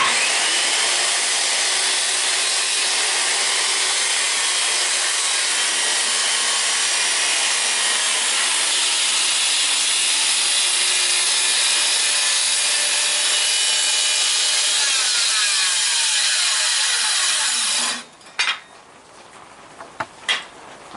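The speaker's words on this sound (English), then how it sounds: "So, back to the skill saw." A circular skill saw cuts through old poplar trim for a cutting board, a loud, steady whining rasp that runs unbroken for about eighteen seconds, then stops abruptly, leaving a few faint knocks and handling sounds.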